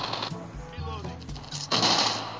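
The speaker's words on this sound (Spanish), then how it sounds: "Le disparo cuando ya está muerto." Gunfire from the mobile shooter game Call of Duty Mobile, a short burst of rapid shots in the first moments with a louder crack near the end, under continuous game noise.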